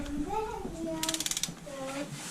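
A torque wrench set to 10 Nm on a BMW R 1100/R 1150 boxer motorcycle engine gives a quick run of sharp metallic ratchet clicks during valve adjustment. Someone speaks before and after the clicks.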